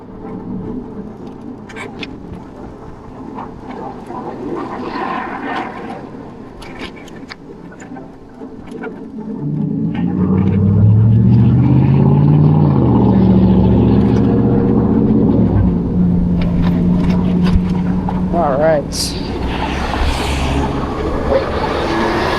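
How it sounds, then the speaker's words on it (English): Road traffic passes at an intersection, quiet at first, then a loud vehicle engine rumbles close by and holds for several seconds before easing off. "It's just too much traffic right now."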